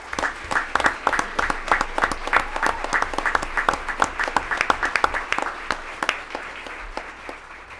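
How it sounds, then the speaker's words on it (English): Applause at a board of education meeting after a roll-call vote: a modest room of people clapping, with individual claps distinct, steady and fairly close, fading slightly toward the end. "a round of applause"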